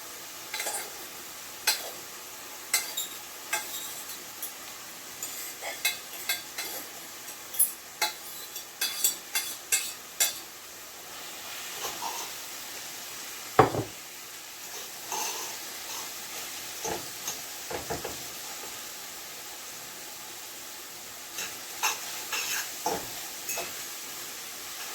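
Saltfish sizzling in a hot pan while being stirred, with a soft steady fry hiss under sharp scraping clacks of the spoon against the pan that come in bursts, then pause, then return more sparsely.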